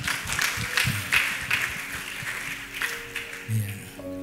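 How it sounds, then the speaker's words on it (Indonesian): An audience applauds at a church worship service, scattered claps forming a moderate, uneven patter that continues throughout, with some background murmur. "Beri tepuk tangan."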